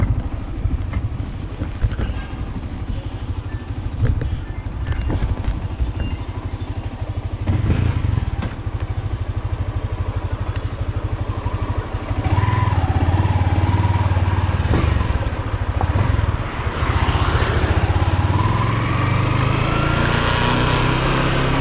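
Yamaha Sniper 155 motorcycle engine running steadily while riding, a continuous loud low drone with wind rush and road clatter throughout, rising slightly in intensity toward the end.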